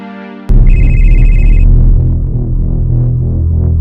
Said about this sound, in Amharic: አንተ ስልክ እየጠራ ነው፣ ላንሳው?